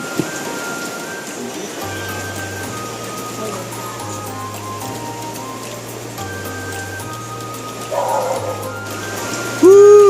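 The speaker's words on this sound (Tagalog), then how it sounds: "nag-uulan na naman" Rain falling steadily on a surface during a rainy day, a constant hiss of drops alongside a low droning hum and some kitchen clatter, growing louder near the end.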